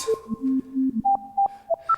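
A Leapfrog filter synth voice patched with a BeatStep Pro plays a short whistling melody, a string of clean, pitched notes stepping upward and ending with a faint reverb tail.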